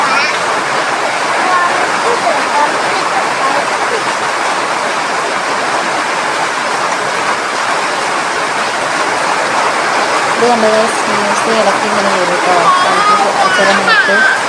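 Dense, steady roar of heavy rain pouring down close by, unbroken throughout, with faint voices now and then beneath it.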